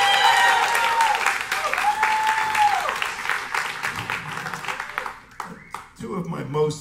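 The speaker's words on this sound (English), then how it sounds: "That's right, clap the loudest for me." Applause from a jazz club audience after the band is introduced, a burst of clapping with cheers and whistles that thins out toward the end as scattered voices come through.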